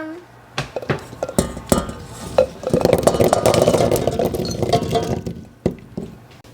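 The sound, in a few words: whole red plums being added to a cooking pot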